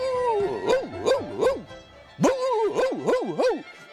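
A dog in a fairy tale, played as a series of tonal, wavering barks and yips in two bursts of about four each, close and clear. The sound may be a human voice imitating a dog.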